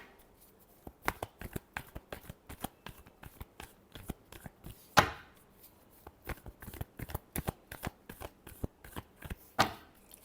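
Tarot cards are shuffled by hand, a rapid run of crisp riffling snaps at an uneven rhythm with a couple of louder slaps, close and alone without talk.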